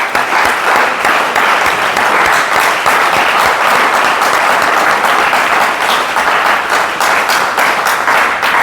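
A church congregation breaks into sustained, loud applause, steady dense clapping filling the whole stretch with no pause.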